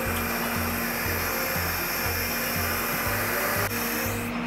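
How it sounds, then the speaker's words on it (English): The hydraulic system of a Terex XT Pro 60 forestry bucket truck drones steadily as its boom rotates, with a constant whining hum and regular low pulsing throbs, close and loud. "Unfolding our lower boom, we are able to spin counterclockwise."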